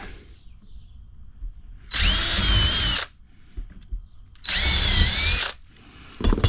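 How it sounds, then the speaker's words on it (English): Two loud bursts of a power drill whining at high speed, each about a second long, drilling holes for a roof rack on a Toyota Tacoma, separated by quieter shuffling and handling noise. "And drill it out."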